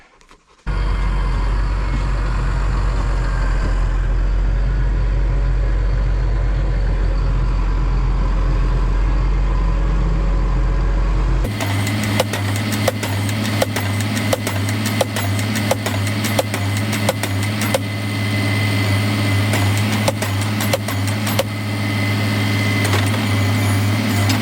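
A quad bike engine drones steadily, then shifts to a rougher, louder idling rumble with rhythmic ticking, continuing close by for a long stretch on a farm.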